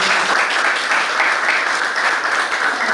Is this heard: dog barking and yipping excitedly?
no